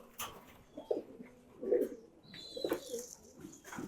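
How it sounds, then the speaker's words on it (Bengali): A sick pigeon with mucus in its throat coos softly three times in a slow, even rhythm, close by in a quiet space. "এত সুন্দর একটা কবুতর"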